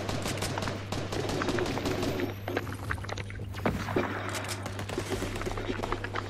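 Rapid gunfire crackles through a Fortnite trios match, dense bursts of shots under a constant low hum, with a brief sharp crack near the middle as a sniper round lands.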